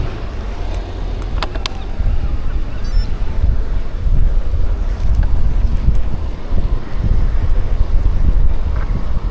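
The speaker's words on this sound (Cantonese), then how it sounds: "今日唔得，今日太大風。" Strong gusty wind roars and buffets the microphone of a bicycle being ridden to or from work in Dublin, a loud, constant low rumble, with a few faint higher ticks and no talk.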